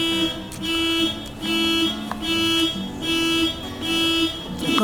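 A car alarm goes off on a street outside, loud and close. It cycles through repeating warbling siren tones in regular bursts, with no voices.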